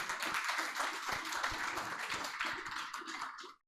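Audience applause welcoming staff members at a coaching institute's celebration event: a brisk crowd of hands clapping continuously at moderate volume, fairly close, then cutting off abruptly.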